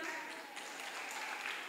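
A church congregation claps together in a dense, steady burst of applause, with a faint murmur of voices underneath.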